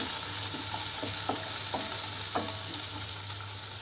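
Chopped small onions, crushed garlic, curry leaves and dried red chillies sautéing in hot oil for a green lentil dish, a steady close sizzle with faint stirring scrapes, no talking.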